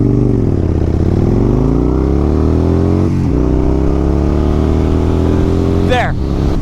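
A Kawasaki Nomad motorcycle accelerates hard from 0 to 60 on a highway. The engine drone climbs in pitch, breaks at two gear shifts and rises again under steady wind roar, loud and close.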